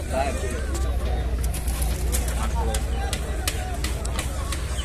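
Birds at a poultry market in Ganja coo and call near the listener, mixed with market hubbub and sharp knocks while people talk.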